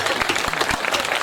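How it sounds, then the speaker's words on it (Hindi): An audience at a Hindi kavi sammelan poetry gathering in Khariar Road breaks into applause, a dense, loud wash of many hands clapping together throughout the short moment. "तालियां तो उसके लिए मिलना चाहिए"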